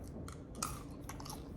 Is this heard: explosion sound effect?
no